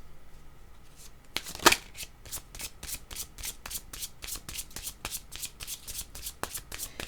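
A deck of playing cards is shuffled in a series of quick riffle bursts, one louder snap near the start followed by a steady run of crisp card flutters, close and alone without talk.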